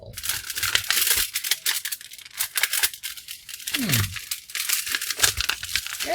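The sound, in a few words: cutting and pulling up glued, stapled rug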